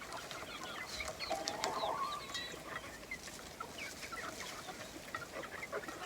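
Hens and chicks cluck in a backyard garden, a few moderately loud clucks early on, then softer scattered calls over a quiet outdoor background.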